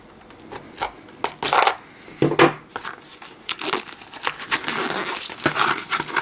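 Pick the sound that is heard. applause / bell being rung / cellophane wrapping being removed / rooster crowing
cellophane wrapping being removed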